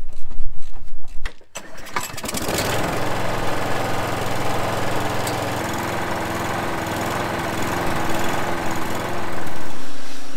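A lawn mower engine, being repaired with a dirty air filter and oil in the fuel, cranks and catches after a pull, then runs at a steady loud idle close by.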